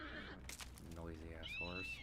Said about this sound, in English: Noisy ass horse.